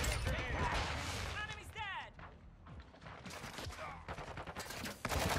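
Shotgun fire in a first-person shooter video game, several sharp, loud booming blasts in quick succession mixed with game effects and someone talking over the action.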